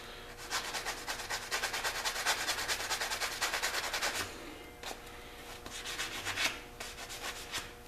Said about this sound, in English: I'm only scuffing the surfaces that are going to be visible.